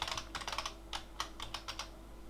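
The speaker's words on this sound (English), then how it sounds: "as you do when you get a new keyboard, you can't help yourself but to try a couple keys out." Keys on a new Syncan mechanical keyboard clack in quick irregular bursts, a close, crisp patter of individual presses with short pauses, no voices over it.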